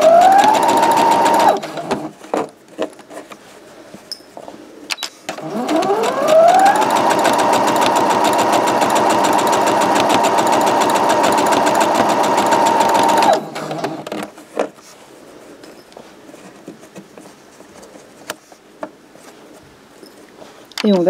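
A domestic sewing machine stitches fabric for a zippered pouch, its fast whirring motor running in a short burst and then one long continuous run, close up, with brief pauses and faint handling noises between.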